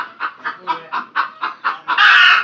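A pigeon with a cold calls in a rough, repeated series of about eight short, hoarse coos at close range, ending on a longer, harsher burst.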